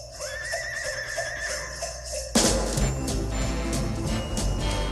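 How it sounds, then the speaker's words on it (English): A horse neighs and whinnies loudly inside a radio talk studio, a rising drawn-out call followed by a burst of clattering, hoof-like thuds and rustle, close and alone with no talk over it. "We'll let a horse in here."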